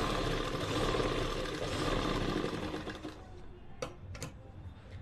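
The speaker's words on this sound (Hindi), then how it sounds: "ऐसे मशीन को चलाएंगे और ऐसे हाथ चलाना है।" A domestic sewing machine runs steadily, stitching a zigzag design on the bottom hem of a salwar, its whir loud and continuous before easing off, followed by a couple of short clicks.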